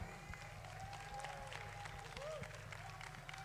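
Applause from a live audience at a Friday-night talk, a dense, steady wash of clapping, likely with some cheering, lasting throughout with a tonal hum running underneath.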